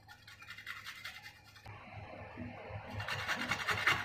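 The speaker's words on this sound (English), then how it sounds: "So we are grating the garlic now." Garlic grated by hand for bottle gourd soup, heard as soft, close scratching strokes with a short pause in between, faint and alone without voices.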